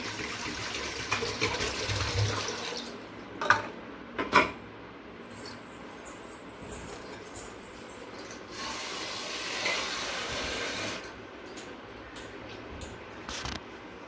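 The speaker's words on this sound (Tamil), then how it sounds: "சட்டி வச்சுக்கோங்க. அதில் வந்து ஒரு தண்ணியை ஊற்றிக்கலாம்." Water poured into a cooking pot for sambar, a hissing gush of liquid filling the vessel with a couple of sharp clinks partway through, then a steady rushing flow resuming near the end.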